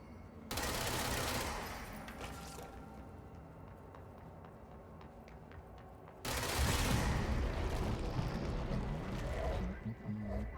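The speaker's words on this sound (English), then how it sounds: "I'm just shooting it off with bullets." Gunfire in the video game Control as bullets chip away at fragile rock, rapid bursts of shots in two loud stretches separated by a quieter gap, with faint voices beneath.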